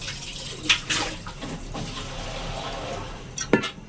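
Small splash of water poured over raw meat in a bowl in a home kitchen, a few brief wet trickles and clinks close by, otherwise quiet.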